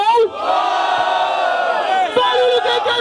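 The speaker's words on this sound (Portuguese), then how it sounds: "barulho, quem gostou da rima do MC Pelé" A crowd at a 2016 Batalha do Tanque freestyle rap battle semifinal in Rio erupts in loud, continuous cheering, whooping and shouted calls that last throughout, close and dense, with voices overlapping.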